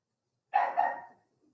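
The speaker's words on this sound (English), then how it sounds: "My dog is barking loudly." A dog barks loudly twice in quick succession, a short double woof close to the listener, then silence.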